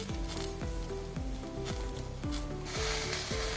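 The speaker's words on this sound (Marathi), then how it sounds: "भाज्या परतून झालेल्या आहेत. त्यामध्ये आपण आता हा तांदूळ जो धुवून घेतलाय तो घालायचा." Washed rice tipped into a pan of sautéed masala vegetables, sizzling and frying steadily while a spoon repeatedly knocks and scrapes in a regular rhythm, close up with no talk.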